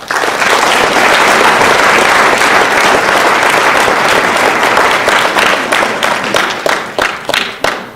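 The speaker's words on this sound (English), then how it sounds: "And he deserves a big round of applause." Sustained crowd applause at a school fall sports awards night, loud dense clapping that thins into scattered individual claps toward the end.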